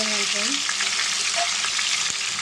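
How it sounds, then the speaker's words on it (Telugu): Fish pieces frying in hot oil, a loud, dense, continuous sizzle close up with a brief stir near the end. "ఇదిగోండి చేపలు మొత్తం ఇలా ఫ్రై చేసేసుకున్నాను"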